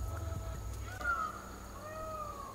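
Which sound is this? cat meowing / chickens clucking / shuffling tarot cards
cat meowing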